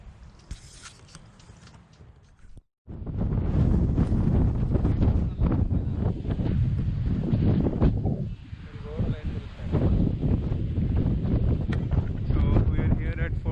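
Strong gusty wind buffets the microphone almost throughout on a pebble-and-sand beach at Antibes, French Riviera, a loud roaring rumble after a brief quieter start, with a person speaking faintly beneath it.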